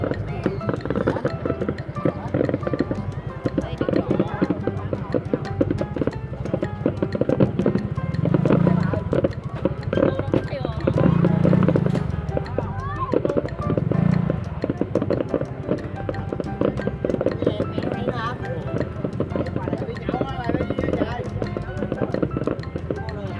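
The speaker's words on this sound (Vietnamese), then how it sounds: "Mình đứng xa ghê mà còn nghe tiếng nổ lớn như thế đó các bạn." Fireworks at a 2019 display in Hong Ngu, Dong Thap, Vietnam, heard from far off as a few dull, muffled booms spaced several seconds apart beneath steady crowd noise and people talking.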